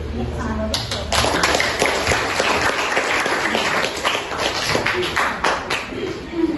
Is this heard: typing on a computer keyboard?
no